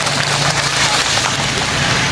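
Heavy rain pours down on a covered shelter at a bird event in Guimba, Nueva Ecija. It makes a dense, steady hiss and patter that stays loud and close throughout.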